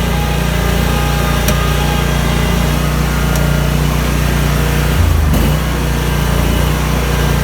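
A 2018 Scag Patriot 61 zero-turn mower running at a loud, steady engine drone while being parked in a barn, close by, with a brief dip in pitch near the end.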